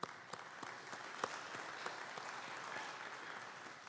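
Audience at a horse-racing industry seminar applauding for Keeneland, a continuous round of many hands clapping, fairly soft and distant with no talk over it.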